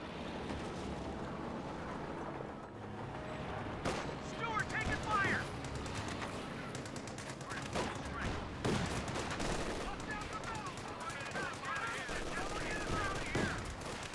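Steady gunfire and bursts of machine-gun fire from a Company of Heroes 2 World War II battle, with rifle squads and Grenadiers trading fire and occasional explosions, a dense continuous din of overlapping shots throughout.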